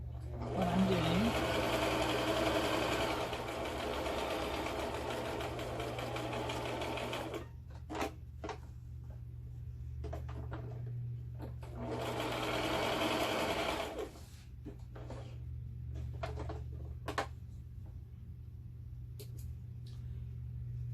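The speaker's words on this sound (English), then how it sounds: "This little brother machine that I have here came from Walmart." A small Brother sewing machine from Walmart stitches quilt pieces in two steady bursts of running whir, with quieter pauses and faint clicks between them over a constant low hum.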